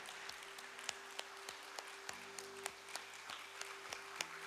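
An audience at a doctors' business summit claps in unison using four fingers, producing a fairly quiet, evenly spaced patter of light claps over a steady low background hum.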